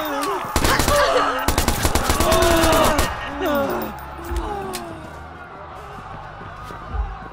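Rapid bursts of gunfire ring out during a shooting in Watch Dogs, loud sharp cracks clustered in the first few seconds, followed by panicked voices and fading scattered noise.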